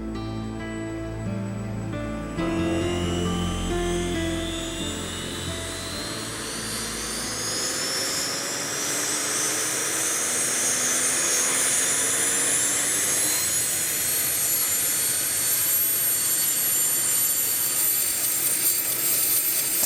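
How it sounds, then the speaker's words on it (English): A twin-rotor Chinook military helicopter roars loudly and continuously, a steady broadband rotor-and-turbine wash with a rising whine as it passes close by, no voices over it. "the twin-rotored Chinook has been in service since the Vietnam War in 1972"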